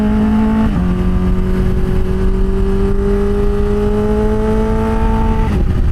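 A Kawasaki Ninja H2 or Suzuki Hayabusa motorcycle engine revs and holds a steady, loud drone with a fluttering edge. Its pitch shifts briefly near the start and end.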